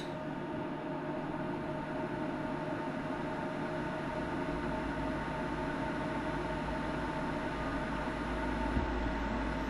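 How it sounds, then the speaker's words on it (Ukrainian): An SLA 3D printer's build platform moving as it starts printing an underwater headphone housing for an XP Deus 2 WS6 metal detector, giving a steady low mechanical hum with broadband whir and no voices. "Поїхала платформа. І буде нам виготовляти корпус."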